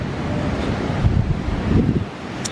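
Ocean waves wash continuously onto a public beach at an all-inclusive resort in Cancun, Mexico, heard as a steady broadband rush mixed with wind buffeting the microphone, with a few louder surges and no talking.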